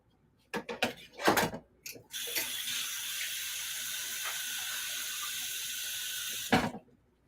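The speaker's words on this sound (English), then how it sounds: "Wash my hands again." A kitchen tap runs steadily for about four seconds while hands are washed beneath it, bracketed by brief clunks and handling noises before and after, at close range with no talking.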